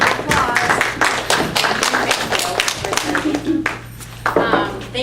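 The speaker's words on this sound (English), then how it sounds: "Let's have a warm round of applause." Audience applause at a community solar event, a loose patter of scattered claps with some sharp clinking hits, then a voice speaking near the end over a faint steady hum.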